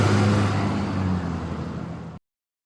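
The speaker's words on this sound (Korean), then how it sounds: "멀리서 자동차 소리가 들렸습니다." A car engine rumbles and whirs steadily for about two seconds, loud and fairly close, then cuts off abruptly into silence.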